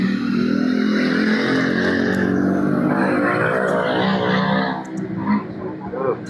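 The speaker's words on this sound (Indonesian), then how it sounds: "Suaranya knalpot." A vehicle exhaust revs and roars loudly up close, the engine note climbing and wavering before easing off near the end.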